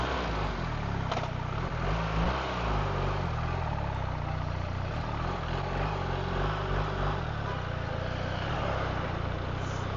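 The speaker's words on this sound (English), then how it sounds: "It's busy also now. I guess people are getting to work. And the traffic, like I said, is dynamic." Motorcycle ride through busy morning city traffic in Morocco, a steady loud engine drone with road and wind noise throughout, close and continuous, no voices.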